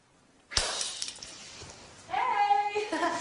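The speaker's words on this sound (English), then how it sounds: "It's just the vase near the door, that's all." A vase standing near a door is knocked: one sharp clatter rings out, then a sustained bright ringing clink follows a moment later, close by and fairly loud.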